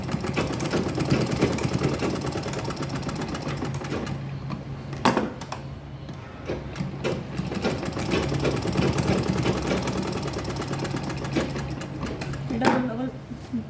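Domestic sewing machine stitching the corners of a fabric makeup bag, a close continuous mechanical whirring with short stops and clicks as the fabric is turned, with someone speaking over it.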